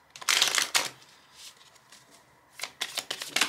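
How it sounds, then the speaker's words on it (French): Playing cards are handled and pulled from a deck during a tarot-style reading, with crisp papery riffles and snaps in two clusters separated by a quieter stretch, close and fairly loud, with no talking. "Je vais prendre une dernière carte."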